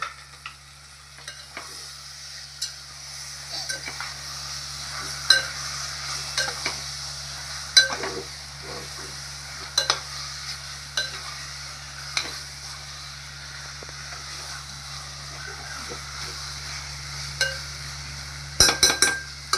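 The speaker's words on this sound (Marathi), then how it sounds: "आणि आता मटण आपण मिक्स केलेलं आहे" Half a kilo of washed boneless mutton stirred into masala in a pan, a quiet sizzle under a low steady hum, punctuated by regular scraping and clinking strokes of a spoon against the metal.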